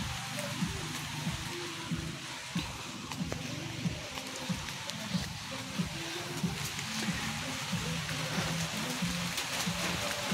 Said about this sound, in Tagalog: kasi ayun na yung ulan